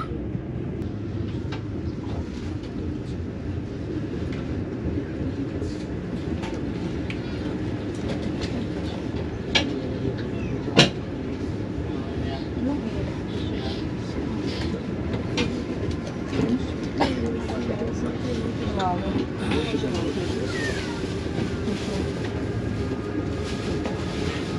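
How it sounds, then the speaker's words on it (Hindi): A Haramain high speed train rolls toward a platform and slows, with a steady rumble, rhythmic clicking of the wheels and occasional faint squeals and clanks, heard from inside the carriage. "तो इंशाल्लाह ताला कुछ ही देर में प्लेटफॉर्म पर रुकेगी ट्रेन"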